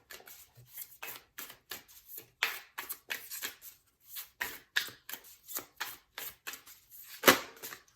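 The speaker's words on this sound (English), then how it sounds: "we're gonna shuffle oracle cards on camera today" Moonology oracle cards are shuffled by hand close up, a quick series of crisp riffling bursts and soft slaps in an uneven rhythm, with short quiet gaps between them.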